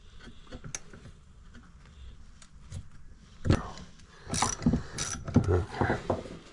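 A ratchet wrench works a stiff 10 mm bolt holding the oil filter on a bike, with scattered clicks and clunks building to louder bursts of ratcheting and metal handling near the end.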